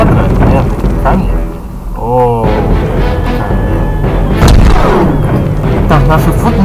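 Cannons in the Totally Accurate Battle Simulator game fire cannonballs and stones in repeated booming shots amid battle noise, with someone talking over the action.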